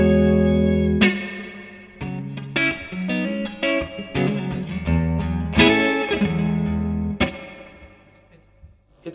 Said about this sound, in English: It's really great sounding studio quality reverb. That's a spring setting